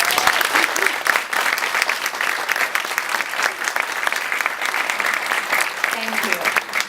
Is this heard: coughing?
no